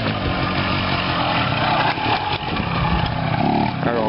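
Warm engine idling with its idle set slightly high while the idle air screw is being adjusted, a steady continuous mid-pitched running drone that stays loud and even with no break across the whole stretch.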